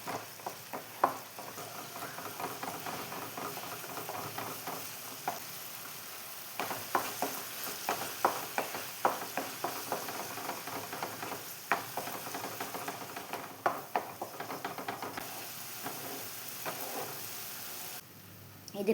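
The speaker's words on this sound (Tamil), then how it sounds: "நெய்லேயே இந்த பேரிச்சம்பழ பச்சடியை நல்லா பண்ணிக்கலாம்" Dates pachadi cooking in ghee sizzles steadily while a spoon stirs and scrapes the pan in repeated strokes, a close, continuous frying hiss throughout, no voices.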